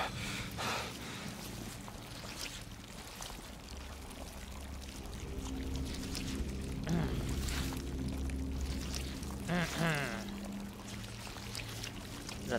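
Large amounts of water pour and splash steadily in the Blair Witch horror game, continuous and moderately loud, with gasps and brief voices over it.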